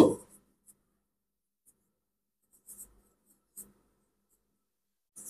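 A formula being written by hand, with a few faint, sparse scratching strokes of pen or chalk spread across a mostly quiet stretch, briefly after a short voice at the start.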